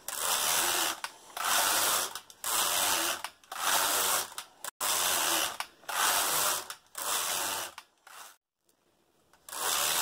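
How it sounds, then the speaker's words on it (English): Knitting needles work a sock close to the microphone, making rhythmic bursts of scraping, ratchet-like clicking about once a second, with short breaks between rows and no talking. "So let's knit."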